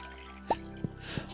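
Water from a watering can in the Stardew Valley game lands on a cow as three quick, wet drips spaced evenly apart, close and clear over soft game music.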